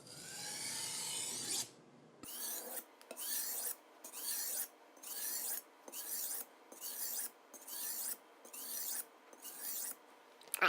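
A knife drawn across a whetstone in repeated strokes, about ten rhythmic rasping scrapes evenly spaced by short silences, close and clear with no talk.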